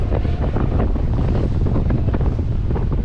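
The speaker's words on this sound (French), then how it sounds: "là je suis au large, le vent est monté" Heavy, constant wind roars across the microphone aboard a sailboat offshore in cold, rising weather, with the wash of sea and waves beneath it, loud and steady throughout.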